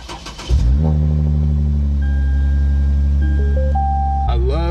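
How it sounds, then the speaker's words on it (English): A car engine cranks and fires, then holds a loud, steady close idle before revving up in a few rising steps and dropping back at the end. "I'm gonna go ahead and start it up for y'all."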